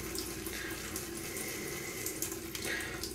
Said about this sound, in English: Let's get a trickle going here.